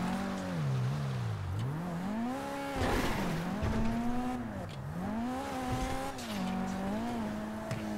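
A car engine hums and revs steadily in GTA Online, rising and falling in pitch as the vehicle drives, with tire squeal and a gritty scraping burst in the middle, loud and continuous.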